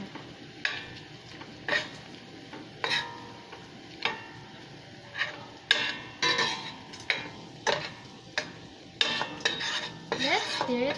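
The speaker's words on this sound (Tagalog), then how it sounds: "Let's stir it up." A utensil stirs garlic and crushed peanuts in a cooking pan, giving a run of distinct scraping and clinking strokes in a steady rhythm over a low sizzle, close and fairly loud, with no talking.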